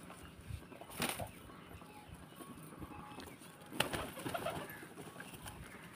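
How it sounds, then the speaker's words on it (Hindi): Pigeons cooing near large bungalows where wild and fancy breed pigeons roost, soft low coos with a couple of brief wing-flap bursts, fairly quiet and close. "कबूतरों के कई नस्लें हैं"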